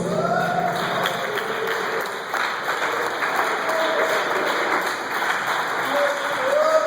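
Church congregation clapping during a Wednesday evening worship service, steady continuous applause throughout, with a voice and some tonal sounds faintly mixed in beneath the clapping.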